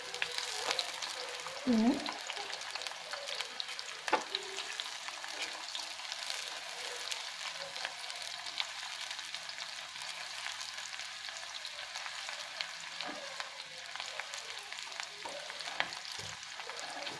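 Onions sauté in a pan for a black squid ink dish, a fairly soft, even sizzle running throughout with occasional light knocks of a heat-resistant spatula and a brief spoken word.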